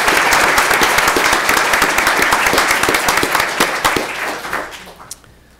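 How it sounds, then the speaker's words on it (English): Audience applause at a school board meeting, a loud, dense burst of clapping that gradually thins out and fades away near the end. "So we'll give her a round of applause,"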